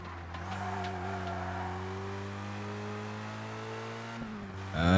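A race car in ToCA Race Driver 2 pulls away under steady acceleration, its engine holding a strong, sustained drone close by before a sharp rise at the end, with no talk.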